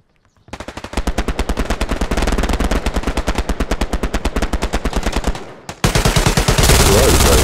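MG42 heavy machine gun firing in the video game Hell Let Loose, long rapid bursts of loud, evenly spaced shots with a brief pause before another sustained burst, up close.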